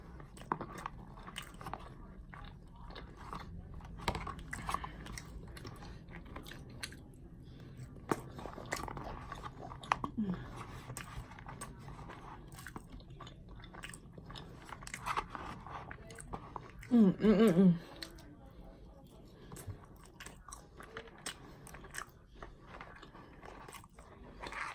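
Someone eating McDonald's bacon cheese fries makes close, soft chewing and biting sounds in a quiet room, with a short louder crunchy burst near the end.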